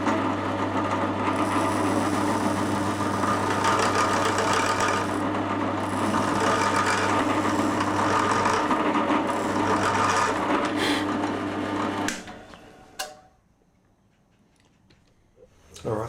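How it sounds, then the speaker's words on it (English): A drill countersinks holes in a Stratocaster guitar body, giving a steady, loud whirring grind into the wood that runs for about twelve seconds, then cuts off into near quiet with a brief rattle. "I'll just countersink those holes as well now."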